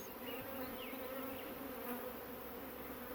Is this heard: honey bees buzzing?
yes